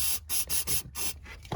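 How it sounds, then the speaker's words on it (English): Brake cleaner sprayed onto a shift linkage bushing of a 2006-2009 VW Rabbit or Jetta, four or five short, close hissing bursts separated by brief pauses, with no talking. "Quick spray of brake clean and a wipe down"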